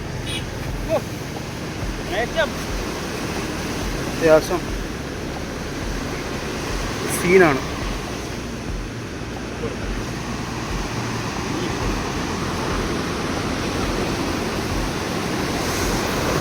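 Ocean surf at Shanghumugham beach in Kerala washes steadily under gusty wind rumble, with a few louder swells, while someone speaks briefly nearby.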